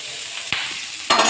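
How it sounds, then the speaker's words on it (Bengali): Kalla and green chilies fry in a pan with a steady, close crackling sizzle, two brief louder bursts as the pieces are stirred, and no talking. "এখন কাল্লা আর কাঁচা লঙ্কা ভাজাটা কিন্তু হয়ে গেছে"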